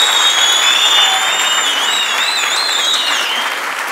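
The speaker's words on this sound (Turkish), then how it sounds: "Kocaman bir alkış rica ediyorum sizlerden." Applause from a conference audience at a Girls' Day event rises into a thick, continuous wash of clapping, tapering slightly toward the end while faint whistles or chirps drift above it.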